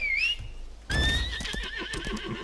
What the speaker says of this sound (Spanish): Voy a coger el caballo